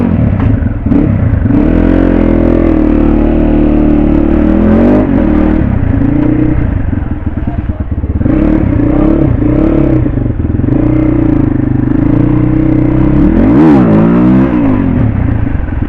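A Suzuki RM 250 dirt bike engine runs close and loud, a raw two-stroke drone with repeated swells in pitch as the throttle is blipped, alone without talk.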